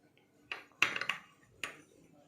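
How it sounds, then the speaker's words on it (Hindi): A spoon clinks against a container as salt goes into an onion pickle in vinegar: a few sharp metallic taps and clicks spaced irregularly, fairly faint and close. "इसमें सबसे पहले मैं नमक डाल रही हूँ"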